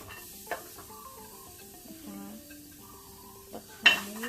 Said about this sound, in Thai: เราต้องคั่วจนหอมเลย